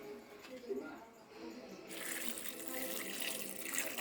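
Water is poured into a pot of dal being prepared for pressure cooking, a steady splashing, hissing flow that grows louder midway and continues to the end, close by and moderately quiet.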